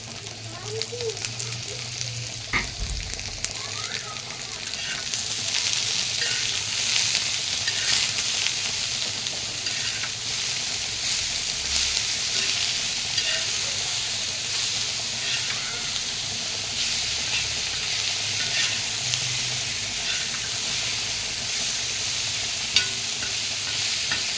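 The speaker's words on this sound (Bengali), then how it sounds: "দেখো সরষে ফোড়ন দিয়ে কাঁচা লঙ্কা দিয়েছি। এবার আমি এর উপরে মূলাটা দিয়ে দিচ্ছি।" Radish pieces drop into a hot pan of mustard-seed tempering and green chilli. A steady, loud sizzle and frying hiss builds and holds close up, with occasional stirring scrapes.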